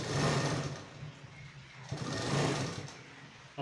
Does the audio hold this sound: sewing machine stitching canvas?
yes